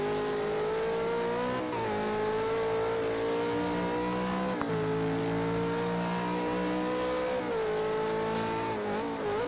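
V8 Supercar at Bathurst accelerating hard out of a corner, a loud onboard engine roar climbing through the revs with brief drops at gear changes, steady and close.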